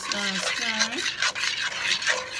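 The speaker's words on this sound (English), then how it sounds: "And just keep stirring." A spoon scrapes and swirls through food in a pot in continuous rubbing strokes, fairly close, over a faint background hiss.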